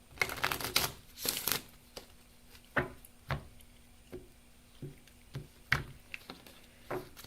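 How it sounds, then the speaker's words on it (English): Tarot cards being shuffled by hand in a quiet room, a series of soft riffling bursts and light taps at an uneven rhythm, close and fairly faint, with no talking. "Shuffle, shuffle."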